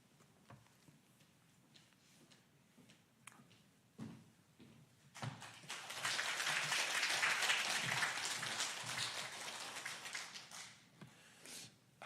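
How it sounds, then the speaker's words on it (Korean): A church congregation at a Wednesday prayer meeting applauds to welcome a missionary to the pulpit: a few scattered taps and knocks first, then a full burst of clapping that swells, holds for several seconds and fades away. "강단에 올라오실 때에 함께 박수로 환영해 주시면 감사하겠습니다."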